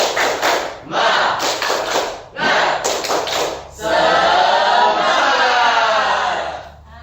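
A group in a classroom teaching session does a rhythmic spirit clap, several quick bursts of sharp, patterned clapping, followed by a sustained loud group shout.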